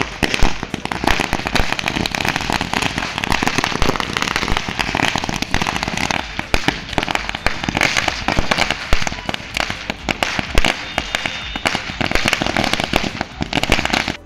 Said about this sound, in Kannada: ಜೆಡಿಎಸ್ ಪಕ್ಷದ ಕಾರ್ಯಕರ್ತರು ಸಿಂಧನೂರು ನಗರದ ಮಹಾತ್ಮ ಗಾಂಧಿ ವೃತ್ತದಲ್ಲಿ ಪಟಾಕಿ ಸಿಡಿಸಿ ಪರಸ್ಪರ ಸಿಹಿ ಹಂಚಿಕೊಂಡು ಸಂಭ್ರಮಾಚರಣೆಯನ್ನು ಮಾಡಿದರು